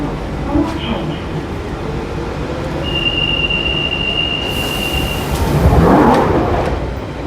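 London Underground tube train at a platform, a steady rumble with rail screech and a whining tone, squeal swelling near the end, voices faintly under the noise.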